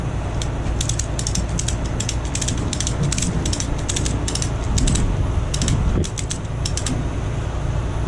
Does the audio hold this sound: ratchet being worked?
yes